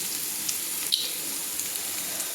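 Moringa drumsticks and potato pieces frying with poppy seed paste and salt, a steady close sizzle with faint scrapes and clicks as the pan is stirred.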